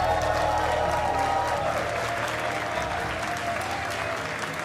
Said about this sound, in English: Crowd, who are you cheering for?